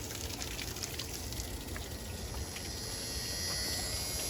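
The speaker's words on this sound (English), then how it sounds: "The bilge pump, not a sump pump. It's pretty. It's working." A boat's bilge pump pushes water out of a flooded hull, a steady rushing, pouring wash of water that grows slightly louder toward the end, with no talking.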